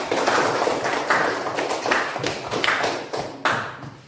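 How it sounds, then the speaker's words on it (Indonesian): Classroom students clapping for the first group's answer, a ragged burst of close, loud hand claps with uneven rhythm and some louder individual claps standing out over about four seconds. "Tepuk tangan dulu jawaban dari kelompok 1."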